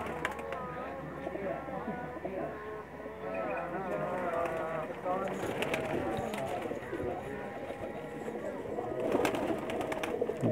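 Pigeons kept for flying competitions coo in repeated soft, throaty calls, several birds close by, with occasional wing flutters and faint background voices.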